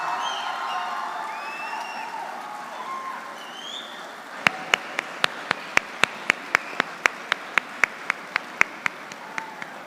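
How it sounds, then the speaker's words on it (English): At a university convocation ceremony, crowd applause opens the scene, with a soft murmur and faint tones. It gives way to a series of evenly spaced, sharp clicks or taps at a steady rhythm. "This is the first PhD from the Faculty of Management and Commerce, so it deserves this kind of applause"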